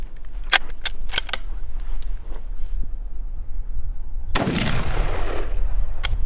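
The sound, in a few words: rifle shots, 25-06 handloads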